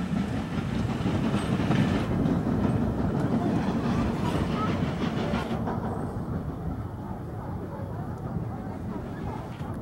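BR Standard Class 9F steam locomotive no 92212 pulling out of Ropley station bound for Alton, heard as a loud, continuous heavy rumble with rolling wagon clatter that eases slightly toward the end.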